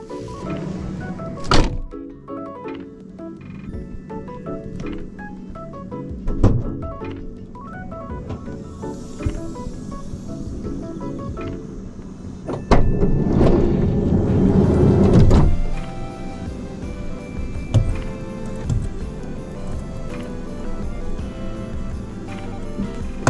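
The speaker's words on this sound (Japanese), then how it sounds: "ハッチバックを開けてスライドドアも開けます" At a Japanese roadside rest stop, a camper car's rear hatch and side sliding door are opened one after another, with solid thunks and a rising mechanical whir of a powered door, close by.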